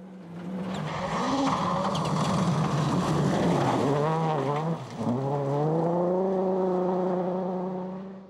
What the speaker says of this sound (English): Turbocharged, high-performance and all-wheel drive cars are capable of insanely high speeds